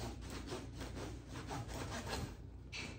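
A knife saws through a crusty sourdough loaf in rhythmic back-and-forth strokes, the crust crackling and rasping close to the ear before a final cut ends the slice.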